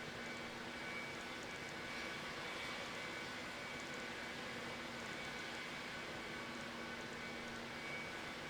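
An aircraft taxiing at an airport, heard as a faint, distant, steady engine whine and rumble that holds evenly throughout with no talking.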